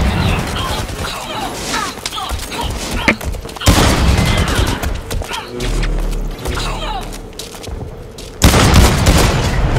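Sniper rifle shots and booming impacts in the shooter game Blacklight during a deathmatch, as a player pre-fires, with loud sharp blasts at intervals between game noise and rumbling.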